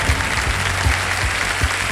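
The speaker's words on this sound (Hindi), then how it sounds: "तालियां बजनी चाहिए इनके लिए।" Steady applause from a TV quiz-show studio audience, dense and sustained clapping filling the whole stretch at a fairly loud level.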